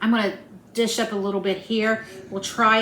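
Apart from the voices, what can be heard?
No everyday noises stand out.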